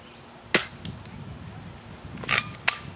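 Gunshots during outdoor target practice: two sharp, fairly distant cracks about two seconds apart, with a softer clatter just before the second, over low background wind.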